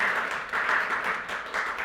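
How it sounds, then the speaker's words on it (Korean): A church congregation at a Wednesday Bible lecture gives a short round of applause, a fairly quiet patter of clapping that swells and fades in quick pulses over barely two seconds. "다시 한번 박수 한번."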